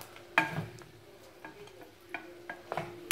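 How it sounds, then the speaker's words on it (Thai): Pork rinds frying in a pot of hot oil, a soft crackling sizzle broken by a few sharper pops and clicks, with no talk. "ทอดแคบหมู"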